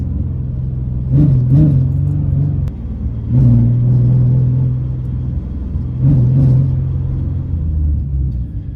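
Nissan 350Z engine idling and running unevenly, its low rumble rising and falling in repeated surges as the revs bounce below 3,000 RPM, loud and close with no speech.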